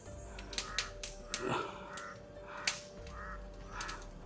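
Several harsh caws of a crow repeat at irregular intervals against a quiet outdoor background, fairly faint and somewhat distant.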